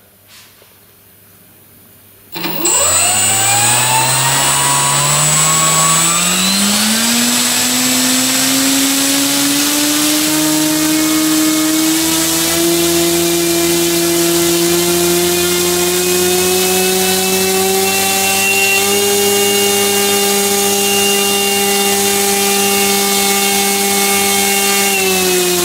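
An AXI 2814/12 electric motor spinning a Master's Q propeller starts abruptly and winds up to a loud, steady whine with a rising pitch, sustained close up.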